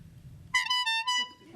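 A person vocally imitates a car horn, a loud, sustained nasal honk lasting about a second with a brief dip mid-way, following low background talk.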